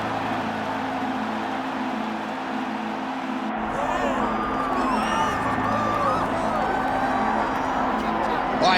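Crowd cheering and roaring in the EA Sports UFC 5 game during a featherweight bout between Benoit Saint Denis and Yair Rodriguez, a steady arena din that swells louder midway and stays full under commentary.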